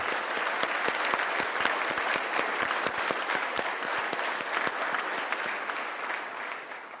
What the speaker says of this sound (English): Please give them a round of applause for all the work they put into our programs.